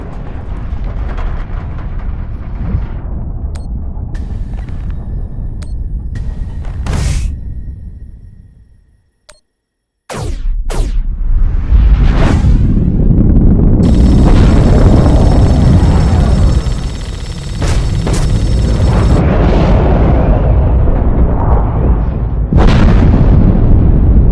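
A torpedo launch and heavy explosions in a space battle from The Expanse game: loud rumbling blasts and bursts, a sudden cutoff to near silence, then a sharp crack followed by sustained roaring detonations and debris.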